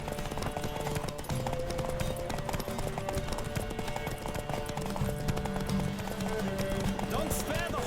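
Rapid hoofbeats of a galloping horse in The Witcher 3: Wild Hunt clatter steadily under loud music and voices, with a brief whinny.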